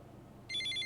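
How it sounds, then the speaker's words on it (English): A phone rings in the video game Snoot Game, a bright electronic trill pulsing in quick repeated bursts that starts midway and rises clearly over a low background hum. "Nasser's phone rings."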